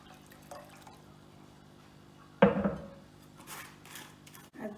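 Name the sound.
a glass of water being added to the pot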